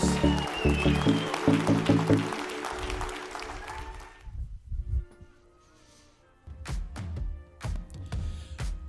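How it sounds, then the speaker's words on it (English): Loud crowd applause for Hall of Famers at a St. Louis track meet, a dense clapping roar that fades out halfway, then scattered claps and noise return near the end. "One more big round of applause for your Hall of Famers"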